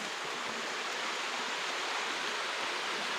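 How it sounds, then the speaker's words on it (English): A small creek waterfall cascade rushes in a canyon, giving a constant, even wash of falling water close by with no other sounds. "Nice little cascade right here."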